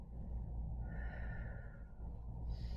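A slow, soft breath during a yoga class, a quiet airy inhale and exhale alone over a low room hum.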